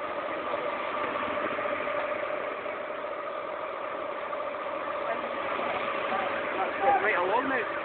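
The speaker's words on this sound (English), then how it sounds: "There's another fire engine coming." A fire engine's heavy engine drones steadily at close range at a building fire, a low continuous hum that holds for the whole stretch, with a brief voice near the end.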